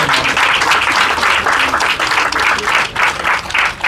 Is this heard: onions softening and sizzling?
no